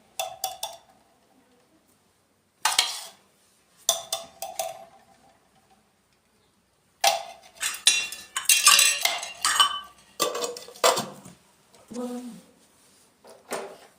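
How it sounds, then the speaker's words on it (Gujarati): Ghee is spooned from a container into a metal cooking pot while making khajur pak: scattered metallic clinks and scrapes come in short bursts between quiet gaps, with voices talking nearby. "બોણીમાંથી ઘી કાઢે છે તપેલીમાં"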